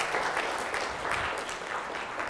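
An audience applauds a lecturer at the close of a popular-science talk on entropy, a dense, steady wash of many hands clapping at even loudness throughout, with no voices over it.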